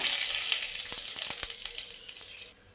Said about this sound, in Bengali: এই তেলের মধ্যে দিয়ে দেব এক চামচ চিনি কালারের জন্য চিনিটা লাল হয়ে আসলে